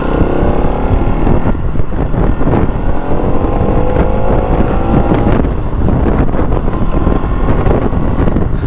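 Engine of a new 2024 Bajaj Pulsar NS200 motorcycle running on a town road, a steady loud drone with rising and falling revs, heavily buffeted by wind noise throughout.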